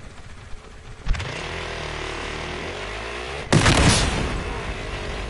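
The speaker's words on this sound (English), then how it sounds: "Here goes a fireball!" Fireball explosion in Battlefield Hardline gameplay: a sharp blast followed by a sustained roaring rumble, then a second louder burst that rolls on and slowly fades, close and heavy with no talk.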